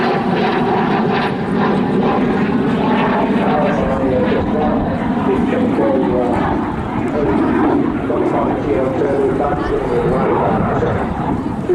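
An L-39 Albatross jet trainer passes at the Southport Airshow 2025, a loud sustained roaring engine drone that swells and shifts over the whole stretch while an announcer talks over it.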